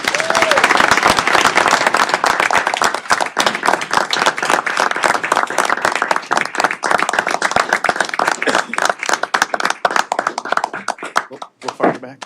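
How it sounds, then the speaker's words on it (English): Loud, close applause breaks out at a township board meeting for a police officer's promotion to sergeant, vigorous clapping that fills the room for several seconds before thinning out, with some voices mixed in. "So please give Jessica a round of applause."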